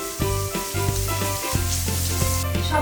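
Onion, garlic and chili sizzle steadily in a hot pan, with repeated scraping stir strokes of a spoon cutting through the frying hiss, close and clear with no talking.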